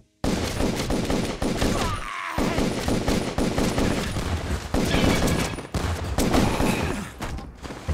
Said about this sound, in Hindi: शॉट गन से मार रहा है